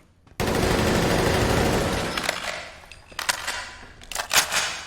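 Sustained automatic weapon fire in the video game Fallout 4 while the character moves, a loud unbroken rattling burst followed by scattered shorter shots and clatter.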